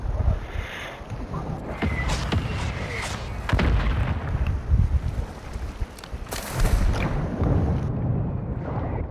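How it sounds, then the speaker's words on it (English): Mortar strike explosions in a video game battle, a run of loud booming impacts and rumbling blasts with crackling debris, a sharp nearby burst standing out among the distant thuds. "launch the mortar strike"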